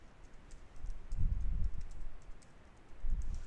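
Typing on a computer keyboard at a desk, quiet irregular key clicks and taps in short bursts, close and soft with a faint low thump under each run of keys.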